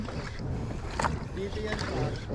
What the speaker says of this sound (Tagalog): malakas ang motor. Sunod ang bangka.